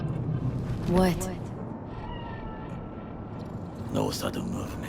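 A cat meows twice in the Cyberpunk 2077 game world, a short call near the start and another toward the end, over a steady low background hum with speech-like sounds in between.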